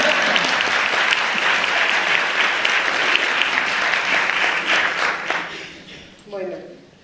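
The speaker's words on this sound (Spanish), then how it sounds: "¿queréis aplaudir?" Audience at a talk in a community hall breaking into sustained, dense applause that fills most of the stretch, then thins out and fades near the end as a voice starts speaking.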